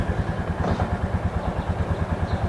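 A 2022 Royal Enfield Classic 350 motorcycle engine runs after starting, settling into a steady, close, even single-cylinder thump at idle with a light mechanical clatter.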